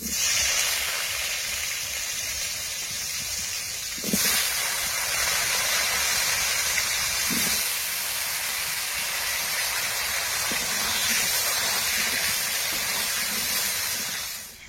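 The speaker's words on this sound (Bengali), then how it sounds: "মাছ ভাজা তেলেই আমি আলুগুলো ভেজে নেব।" Potatoes frying in oil left over from frying katla fish, a steady loud sizzling hiss that runs unbroken, with a few brief knocks and stirring sounds along the way.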